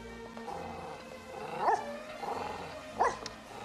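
A small dog gives two sharp, high-pitched barks a second or so apart, heard against a quiet background hum.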